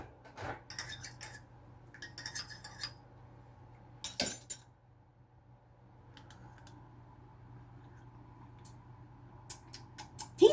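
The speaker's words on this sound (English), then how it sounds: "I'm going to stir it up" A spoon stirs tea with lemon in a glass, giving a few scattered light clinks and taps separated by long quiet gaps. The sounds are faint against a steady low hum, with a louder knock near the start and a burst of taps at the end.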